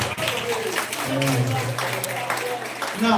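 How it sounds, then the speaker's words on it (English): An audience at a high school 50th anniversary event claps for students, a moderate wash of applause under a humming, tonal background and faint voices. "Now, let's clap for them, please."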